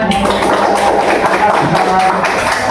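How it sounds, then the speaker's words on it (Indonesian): A classroom of students claps together for a group's drawing, dense rapid hand claps filling the short stretch, loud and close, with some chatter among them. "Oke, silakan tepuk tangannya."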